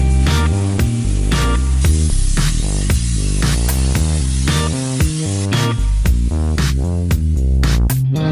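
A pressure washer at a car wash sprays a motorcycle, a loud continuous hiss of water with rapid, shifting pulsing tones as the jet moves across the bike.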